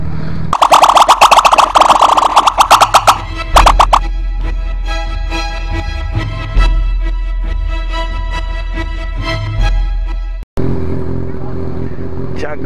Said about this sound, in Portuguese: As motocas já estão se posicionando